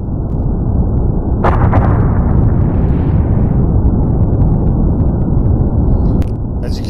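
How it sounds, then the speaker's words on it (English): A powerful volcanic explosion at Mount Etna, a huge blast sending ash high into the sky, heard as a loud, sustained roaring rumble with a sharp crack partway through and another near the end. "Let's take a look at the explosion that occurred just a few hours ago."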